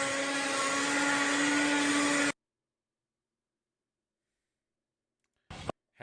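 An electric mixer whips a dairy mixture for cowboy burgers, a loud steady whirring drone for about two seconds that then cuts off abruptly, followed by silence and a brief clatter near the end.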